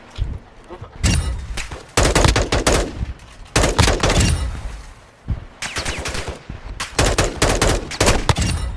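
Gunfire in the video game Call of Duty 2: loud, close bursts of rapid rifle and machine-gun shots come in repeated volleys separated by brief lulls.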